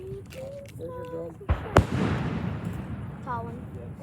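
Fireworks burst outdoors, with a sharp pop followed by a loud crack and a lingering rumbling crackle, while people talk and exclaim nearby before and after the blasts.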